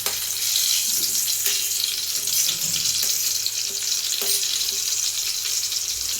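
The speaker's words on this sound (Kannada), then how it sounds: "ಹಾಕೊಂಡು ಎಣ್ಣೆಗೆ ಫ್ರೈ ಮಾಡ್ಬೇಕ್ರಿ" Onions fry in hot oil with mustard seeds and cumin, producing a steady, loud, close sizzling hiss that runs without a break.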